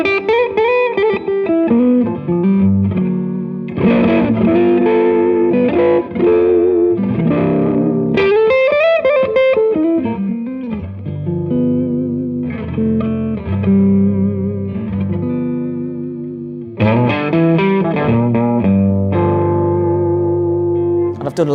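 A 1962 Gibson ES-330 electric guitar, with its volume backed off, plays a loud, continuous run of chords and single-note lines with a warm, slightly distorted tone and reverb, and no talking over it.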